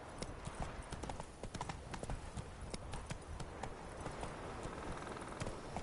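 Horse hooves galloping in The Witcher 3, a rapid steady clip-clop drumming throughout, fairly faint, with a brief voice spoken over it.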